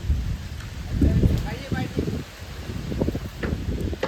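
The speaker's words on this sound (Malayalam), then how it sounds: "ഓ ഇടി" Rain falls steadily while low thunder rumbles and rolls through, the storm fairly close, with people talking over it.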